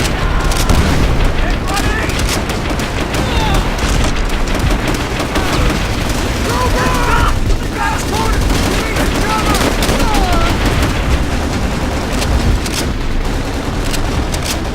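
Continuous loud combat in the video game Call of Duty: World at War: repeated booming grenade explosions mixed with gunfire, dense and chaotic throughout.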